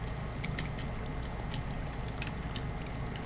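Steady rushing flow of water in a video game, an even, unbroken wash of noise lasting throughout, with faint splashy accents and no speech.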